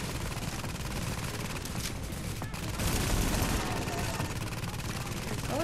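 Dense, sustained gunfire from the video game The Division, close and loud, with rapid overlapping shots rolling on without a break.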